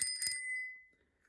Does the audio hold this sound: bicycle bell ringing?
yes